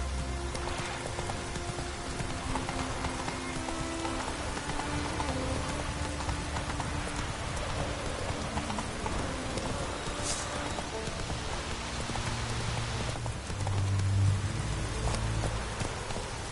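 Horse hooves galloping through rain in The Witcher 3, steady rainfall over layered game music with a faint rhythmic clip-clop underneath, continuous and fairly dense throughout.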